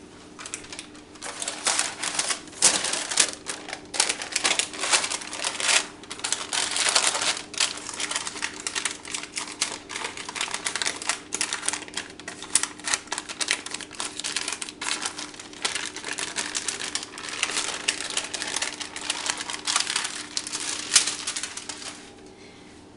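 Baking paper crinkling and rustling while a rolled-out dough lid is laid over a mackerel and pepper empanada: dense, close, continuous crackling for over twenty seconds, with no voices.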